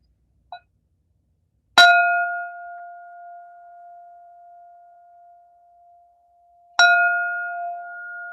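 A meditation practice bell is struck twice, several seconds apart. Each strike rings out clearly and alone, then slowly fades in a long, steady tone.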